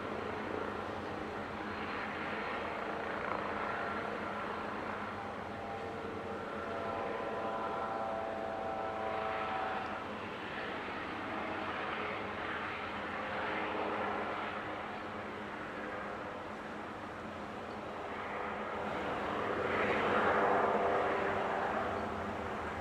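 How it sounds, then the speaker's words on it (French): An Airbus H160 helicopter hovers at the Paris Air Show with a steady, moderately distant rotor and turbine drone and a faint whine, broadening slightly in loudness near the end. "Il est d'ores et déjà en stationnaire via une fonction qui permet à l'hélicoptère de décoller de manière presque autonome."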